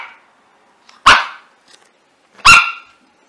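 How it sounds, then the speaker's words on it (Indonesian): Two loud, sharp dog barks, close by and spaced about a second and a half apart, with brief quiet between them. "Ya, ini adalah suara anjing."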